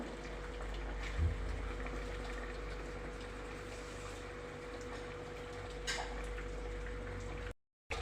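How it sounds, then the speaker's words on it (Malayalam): Water poured into a pot of jackfruit being cooked, a steady close gushing wash that runs for several seconds without a break before cutting out briefly near the end. "കുറച്ചുകൂടി വെള്ളം ഒഴിക്കാം"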